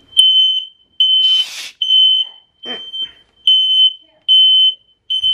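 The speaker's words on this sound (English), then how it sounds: "Smoke alarms work!" An indoor smoke alarm set off by fake fog shrieks in loud, repeated high-pitched beeps at a steady rhythm, broken once by a brief rustling burst.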